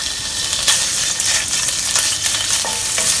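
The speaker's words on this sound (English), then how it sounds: "We are going to pan fry the pork belly now, brown them." Sliced pork belly, about 50 grams, pan fries in hot oil for Heng Hua lor mee, giving a loud, close, crackling sizzle with scattered pops and stirring scrapes throughout, and no voices.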